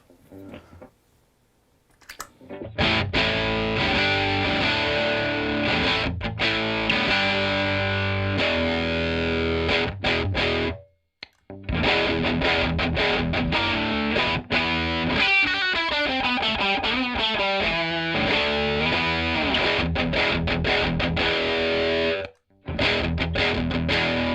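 Distorted electric guitar played through a Fender Deluxe Reverb amp, strummed chords and riffs ringing out loudly, with two brief pauses between passages.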